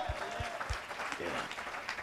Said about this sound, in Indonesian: Ayo beri tepuk tangan dulu, haleluya.